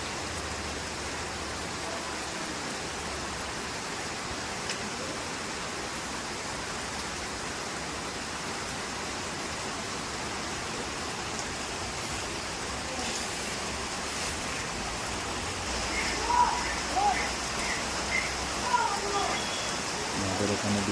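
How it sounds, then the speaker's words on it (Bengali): Rain falling outdoors near a building work site, a steady, even hiss that continues throughout and thickens slightly toward the end. "আমাদের এখানে বৃষ্টি চলে এসেছে"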